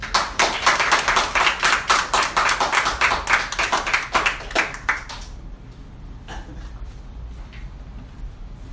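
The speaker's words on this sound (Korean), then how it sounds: "우리 또 환영의 박수 한번." A church congregation claps in welcome steadily for about five seconds, a dense run of hand claps that then stops, leaving a quiet room with faint sounds.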